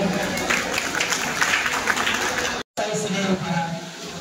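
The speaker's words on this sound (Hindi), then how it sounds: "चेयरमैन सर जोरदार तालियां हो जाए।" An audience at a Teachers' Day celebration in a coaching centre applauds the chairman with steady, dense clapping, broken by a brief cutout before continuing.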